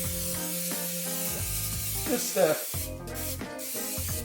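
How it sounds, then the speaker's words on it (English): Cooking oil spray, olive oil or cooking spray, misted onto a jelly roll pan in short hissing bursts, heard under a voice talking and soft background music. "Regular olive oil or cooking spray will do."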